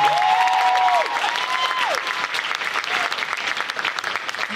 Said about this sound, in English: Give a round of applause for the band, by the way.